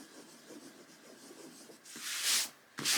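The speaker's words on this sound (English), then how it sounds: "when I rub those marks out" Pencil marks being erased from paper, a short soft rubbing scuff followed by a brief second burst of rubbing, close and fairly quiet, with no talk.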